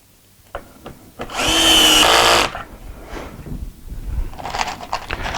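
A power drill drives pocket screws into a melamine drawer in a woodworking shop: one loud, close whirring burst of about a second, followed by quieter handling clatter and a brief second whir at the end.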